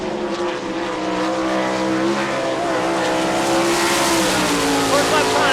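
A World of Outlaws sprint car, number 22, roars loudly around a dirt oval at Rossburg, Ohio on a qualifying lap, its engine note rising and falling continuously with a steady high-revving drone.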